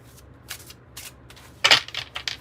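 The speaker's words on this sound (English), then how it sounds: "So give it a really good shuffle for you." Tarot cards are shuffled by hand at close range, with soft intermittent riffles and then a louder burst of quick card flicks toward the end.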